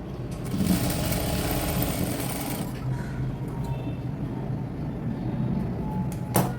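A sewing machine runs steadily, stitching a half-inch shoulder seam on a garment, a continuous close mechanical whir that eases slightly partway through, ending with a brief clack.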